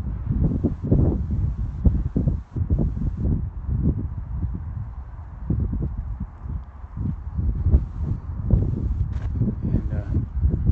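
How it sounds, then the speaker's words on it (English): Strong wind high in the mountains at Hyak Lake, buffeting the microphone steadily and loudly in gusts throughout, with low rumbling noise and no clear speech. "And got a lot of wind out here."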